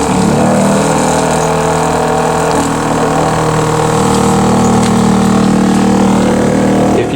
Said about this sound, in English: Turn our pump back on.